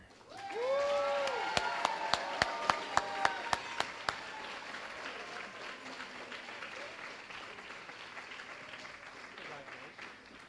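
Audience at a school band banquet bursts into applause, loud at first with a row of sharp camera clicks or claps standing out, then settling into steady clapping that slowly thins.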